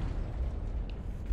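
A grenade goes off in Halo: Combat Evolved, a dull, low rumbling blast that fills the short moment with steady, muffled, bass-heavy noise.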